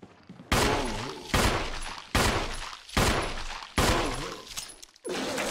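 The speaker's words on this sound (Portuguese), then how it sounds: "A shotgun do Clark só pega em um mesmo?" Repeated shotgun blasts in the Resident Evil 1 game, five or six loud, sharp shots spaced about a second apart, each ringing out briefly before the next.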